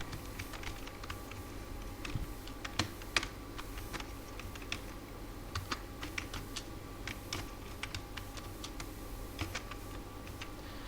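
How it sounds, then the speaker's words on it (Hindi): A company name goes into Tally Prime on a computer keyboard, steady faint key taps ticking over a constant room hum for several seconds, with no speech. "अब मैं यहाँ पर एक कंपनी का नाम टाइप करूँगा"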